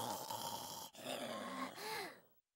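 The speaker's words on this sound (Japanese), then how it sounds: "大男はものすごいいびきです。" A performer voices the giant's loud snoring in an animated Jack and the Beanstalk, a rough, groaning, grunting rumble that swells twice, then trails off into silence.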